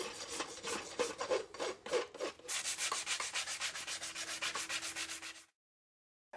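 A farrier rasps and finishes a shod horse's hoof in quick, rhythmic, close strokes for about five seconds before the sound cuts off to silence.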